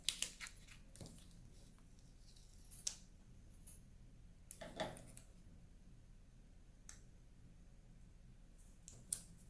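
Scissors trim the edge of a sheet of paper for a classic vertical memory book with a Craftsmart Flora theme. A few quiet, crisp snips and clicks come at irregular moments against a hushed room.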